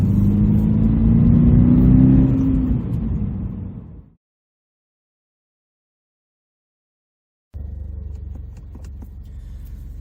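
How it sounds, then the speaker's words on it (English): A 2023 Subaru BRZ with a Remark Elite Spec cat-back exhaust revs loudly and rumbles deeply, cuts to silence for a few seconds, then idles again with a low throaty burble. "the exhaust is installed. Sounds great."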